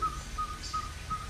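A short whistled note is repeated four times at an even, steady pace, imitating a ferruginous pygmy owl's call, over low background rumble.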